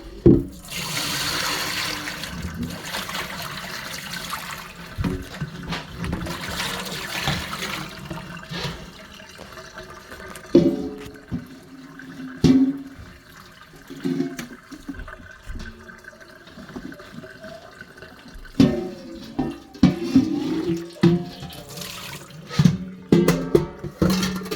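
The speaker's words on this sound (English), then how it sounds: "It's a little cloudy still, so I'll rinse it one more time." Water runs into a sink as a dog hair scarf is rinsed by hand, with a steady gushing flow broken by sloshing, splashing and handling noises near the microphone.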